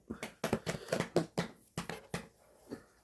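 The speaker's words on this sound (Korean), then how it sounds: "자, 박수." A few people clap in short, uneven bursts during an evening family worship service at home, close and fairly soft, with sharp separate claps trailing off toward the end.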